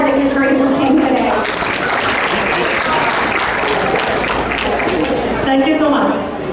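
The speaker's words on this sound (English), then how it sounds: "please again a last round of applause for all our dignitaries who came today" An audience at a business expo and job fair gives a loud, sustained round of applause for dignitaries, dense clapping that fills the space, with brief voices at the start and end.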